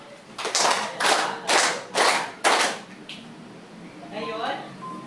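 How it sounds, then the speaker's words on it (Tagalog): A class of children claps five times in unison, each clap a broad, evenly spaced burst, and a voice speaks briefly once the claps stop. "Bigyan na iyong sarili ng 5 palakpak."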